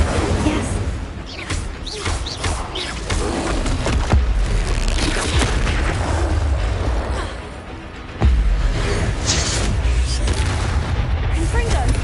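Confringo and Incendio fire spells blast repeatedly in the Hogwarts Legacy video game, loud booming impacts and crackling bursts filling the scene, with a player's voice shouting over them.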